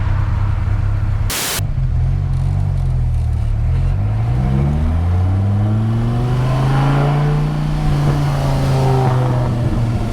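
A 2001 Dodge Viper RT/10 with a Belanger exhaust accelerating under modulated throttle, a loud, deep engine drone rising and falling in pitch over a constant rush of road and wind noise, with a sharp burst of static near the start.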